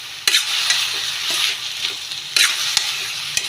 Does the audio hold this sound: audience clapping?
no